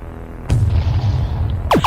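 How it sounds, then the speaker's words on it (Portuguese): Booming explosion effects from an HTML and JavaScript browser game, one sudden low burst followed by a rumbling tail, then quick descending zaps near the end, with no talk. "vamos executar aqui o arquivo para ver como é que está o som dos disparos e das explosões"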